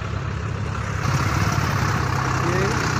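Tractor arriving at a harvested paddy field, a steady loud rumbling diesel engine with low throbbing hum throughout, close by, with talk underneath.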